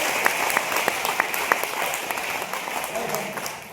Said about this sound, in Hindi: फिर से ताली बजा दीजिए